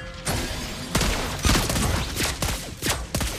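Rapid gunfire from the sniper hero Lesley in the Mobile Legends mobile game, a dense volley of sharp shots with repeated loud bursts over roughly three seconds, close and busy.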